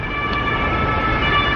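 Police car siren in Germany, a steady wailing tone carrying over heavy traffic-like rumble, fairly loud and continuous throughout with no talk.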